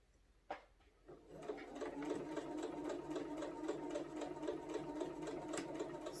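A sewing machine quilting a placemat starts after a sharp click and then runs at a steady, close, rhythmic hum, fairly quiet, with no talk.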